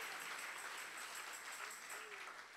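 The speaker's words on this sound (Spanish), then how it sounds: "Si le va a dar el aplauso al Señor." Church congregation applauding during a sermon by a pastor, a steady, quiet wash of many hands clapping, heard faint and a little distant, with a brief voice rising over it near the end.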